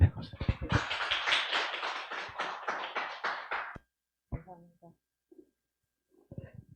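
Audience clapping welcomes a speaker at a Korean labor forum, a close, uneven burst of many hands that ends abruptly, followed by a few scattered taps and small noises in near silence.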